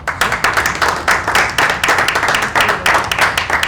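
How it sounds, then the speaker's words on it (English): A meeting audience at a monthly board session breaks into applause, a dense close patter of many hands clapping steadily through the whole stretch. "So a big applause."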